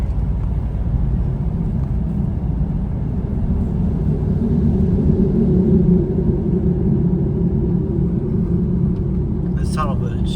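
A car drives through a road tunnel in El Salvador, with a deep, steady roaring rumble that fills the whole stretch and swells slightly midway; a faint voice is audible near the end.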